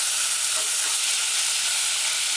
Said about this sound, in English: Allow it to saute.